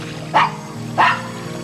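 A dog on a porch gives two sharp, loud barks about half a second apart, close by, over a low background hum.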